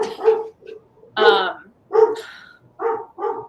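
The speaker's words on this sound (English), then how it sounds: "My dog's barking." A dog barks repeatedly nearby in a home, giving about six short barks and yips in an irregular rhythm, fairly loud and with no talk over them.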